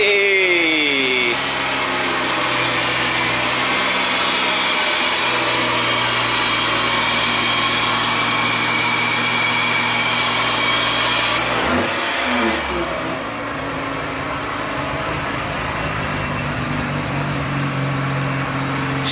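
A JDM Mazda RX-7 with a rotary engine runs loud and close, holding a steady idle with a brief change in pitch partway through before settling into a slightly different, even drone.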